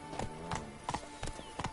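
Roach, Geralt's horse in The Witcher 3, trots with clip-clopping hooves, about five evenly spaced double beats, fairly quiet and close with a faint steady tone underneath.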